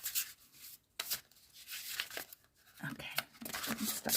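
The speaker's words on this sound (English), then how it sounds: "They're very noisy, these cards to shuffle." Stiff tarot cards being shuffled close up, with crisp riffling and rubbing in uneven bursts, papery and fairly quiet.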